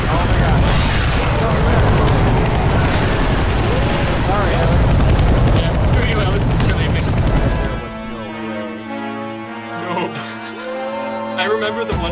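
A rescue helicopter in the video game Left 4 Dead 2, Dark Carnival campaign, roars loud and dense amid bursts of gunfire and explosions, then drops to a quieter layered hum with scattered game sounds.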